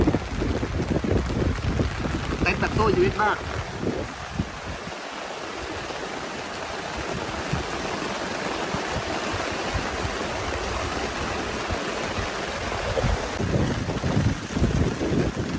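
Strong wind and rain roar and buffet the microphone during a storm at a reservoir while fishing, a loud continuous gusty rush with a brief spoken phrase near the start.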